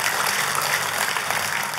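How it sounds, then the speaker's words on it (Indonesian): A church congregation at a worship service breaks into steady, dense applause, a continuous wash of many hands clapping at moderate volume with no talk on top. "Oh, kalau tepuk tangannya meriah, saudaraku."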